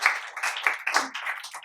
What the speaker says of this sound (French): On peut aussi applaudir.